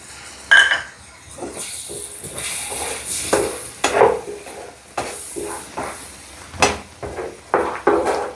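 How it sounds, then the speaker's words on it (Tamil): Thick ground tomato paste is poured into a chicken filling in a pan and stirred, giving soft intermittent sizzling with repeated clinks and scrapes of a spoon against the pan, without speech. "இப்போது அரைச்சி வச்சுருக்கேன் தக்காளி பேஸ்ட்டை ஊற்றிடலாம்"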